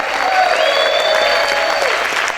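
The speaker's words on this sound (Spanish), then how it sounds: "¿Cuántos pueden gritar y aplaudir fuerte al Señor?" Church congregation clapping and shouting in praise of God, a loud dense wash of applause with cheering and whooping voices on top.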